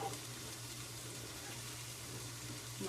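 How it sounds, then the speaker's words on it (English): Pasta water trickles and splashes as pasta is lifted out of the pot with a slotted spoon, a steady close wash of running water with a low hum beneath. "I'm using a slotted spoon just to drain that out."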